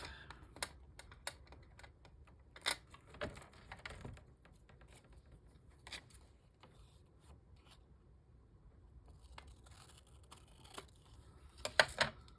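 Scissors snipping through a magazine page, a series of soft, close, irregular clicks and crisp cuts scattered over a quiet background.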